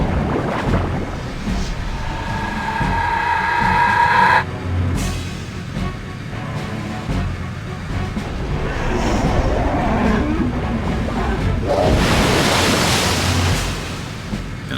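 A water summon spell bursts in the Septerra Core boss battle against the Sonic Lava Boss, a loud rushing surf-like wash that swells and recedes over the game's music, with a bright hissing splash toward the end.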